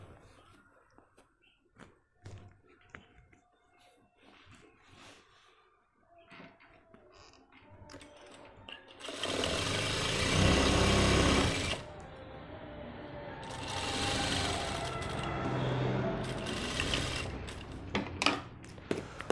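Sewing machine stitching a trouser front pocket, with quiet handling clicks and rustles first, then a loud sustained burst of rapid stitching, a pause, and further shorter runs of stitching up close, with no talk.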